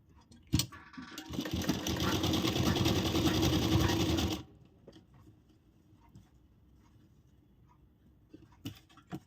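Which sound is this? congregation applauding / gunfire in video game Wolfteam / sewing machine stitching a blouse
sewing machine stitching a blouse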